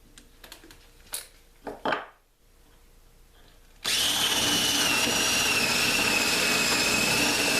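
A power drill runs steadily at high speed, boring a hole in a tomahawk handle, loud and close. Before it starts there are a few short knocks and handling clicks, then a brief quiet pause.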